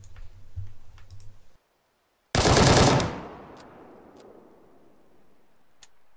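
A short, rapid burst of AKS GP rifle fire in Arma 3, loud and close, cutting in after a brief silence and trailing off into a long fading echo, with quieter clicks before and after.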